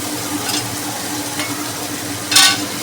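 Mutton paste sizzling loudly in a pan of fried spices, with a steady frying hiss and a few sharp scraping stirs of a spoon, close up and without talk.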